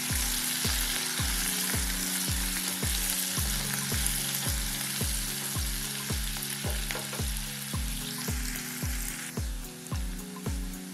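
Onions frying in a pan with green chillies and curry leaves for a masala egg fry: a continuous fizzing sizzle under a regular series of low thumps, roughly two per second, probably from stirring against the pan, with no talk.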